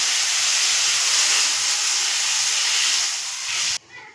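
White mustard seeds sizzle as they temper in hot oil, a loud, steady hiss that holds evenly and then cuts off abruptly just before the end.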